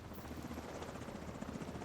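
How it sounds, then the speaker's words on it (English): Helicopter in a video game droning steadily with a continuous rotor chop, sustained and fairly prominent through the short stretch with no talking over it. "Where's the other chopper going?"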